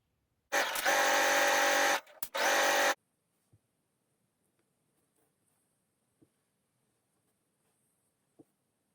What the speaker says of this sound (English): we're going to sew across the ends, clip off the corners, so that we get a really nice pointed sash belt